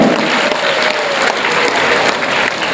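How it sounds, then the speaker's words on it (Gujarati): Loud, dense applause from a large audience fills the whole stretch without a break, at a Mansuri community prize-distribution program in Ahmedabad. "એના માટે જોરદાર તાળીઓ"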